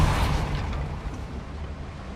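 The Depulso spell cast in Hogwarts Legacy lets out a single heavy, booming whoosh that starts loud and decays over about two seconds, with no voice over it.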